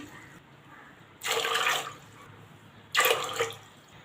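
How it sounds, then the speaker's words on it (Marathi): Two short gushes of water pouring into a pressure cooker of rajma, each lasting about half a second to a second, separated by a brief pause, fairly close and clear. "कुकरमध्ये राजमा घालायचा आहे त्यामध्ये पाणी घालूया आपण"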